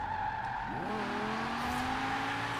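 Lamborghini Huracan in Forza Horizon 4 braking hard for a sharp right turn, a steady engine drone with a descending tone as the car slows, ending in a sustained tire squeal.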